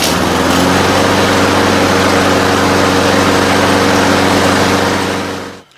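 A Snapper lawn mower engine runs with the choke engaged, its loud, close, steady buzzing drone holding throughout before cutting off abruptly at the very end.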